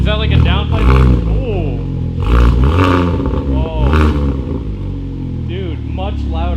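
A Hyundai Veloster N with an SXTH Element downpipe revs in several loud, throaty bursts close up, each swelling and falling back, with voices talking between and over them.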